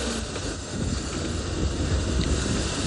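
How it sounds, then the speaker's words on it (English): Strong wind buffets the microphone outdoors at sunrise on a wildlife safari drive, a steady, loud, broadband roar with no other clear sounds. "Since there's too much wind, prey species hearing it's all just gone."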